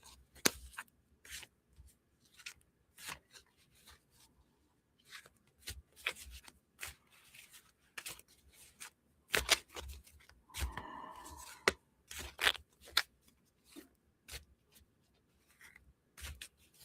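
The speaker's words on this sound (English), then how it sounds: "So I shuffle the cards completely before I start." Tarot cards are shuffled by hand in repeated crisp riffles and slaps, close and clear with short pauses between passes and no talking.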